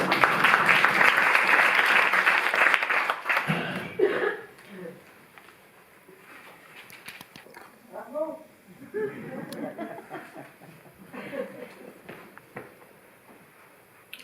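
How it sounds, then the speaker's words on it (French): Audience applause at a poetry and music evening in a Paris venue, a full burst of clapping lasting about three seconds before dying away into quiet murmurs and a few scattered sounds. "Faut applaudir, hein."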